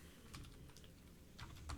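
Fingers type on a computer keyboard, producing quiet, quick, irregular clicks and taps at close range with no voices.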